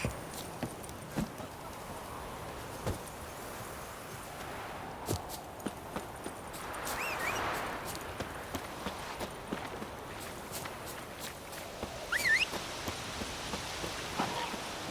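Horse hooves clip-clop at a steady walking pace in the video game Witcher 3, faint and slightly muffled under a soft ambient outdoor bed, with a brief swell of rustling midway.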